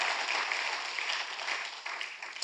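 A church congregation applauds warmly, producing dense, steady clapping that fills the space for a couple of seconds without a break.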